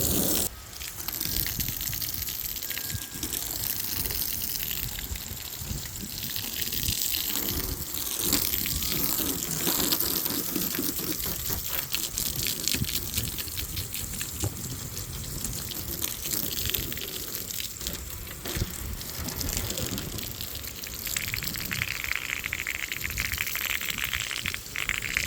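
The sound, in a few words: water spray rinsing off a car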